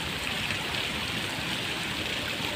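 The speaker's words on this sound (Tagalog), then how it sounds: "Grabe, ang lakas ng ulan mga katoy." Heavy rain pours down at a fishing spot, a loud, dense, unbroken roar of water that holds constant throughout with no talk.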